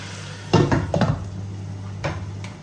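A spoon scrapes and knocks against a pan while onions soften for Moroccan rfissa, a few clustered clanks and stirs over a low steady hum, with no talking.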